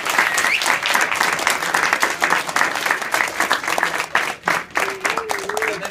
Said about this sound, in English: So if we can give a round of applause for them.